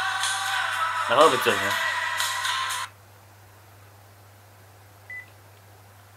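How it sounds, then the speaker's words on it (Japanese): A phone ringtone given out by the police, a loud electronic melody with beeping tones playing for nearly three seconds under a man's speech, then cutting off to quiet room hiss with one short beep later. "これ着信音なんだな"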